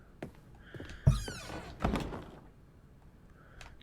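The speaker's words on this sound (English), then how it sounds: "Can I close this door?" An office door closes in the video game The Stanley Parable, a soft thunk followed by a louder latching thud a moment later, heard quietly over faint room tone.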